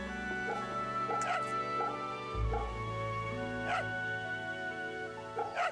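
A dog in the video game Fate/Samurai Remnant gives a series of short, bright barks and yips while being petted, spaced every second or so over soft game music.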